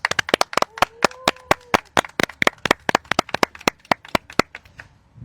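At an online seminar on non-binary people, a burst of sharp, evenly spaced claps sounds close and clear, steady for about four seconds before stopping, with no talk over it.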